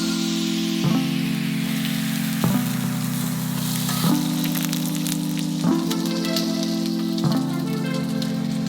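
A meal sizzles while cooking, a steady rain-like hiss over a constant low hum with soft ticks recurring every second or so, heard alone without talk.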